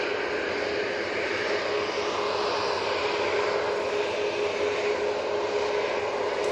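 Steady engine roar from a TUI airliner at Manchester Airport, loud and constant throughout, with a thin sustained whine riding on top and no talking.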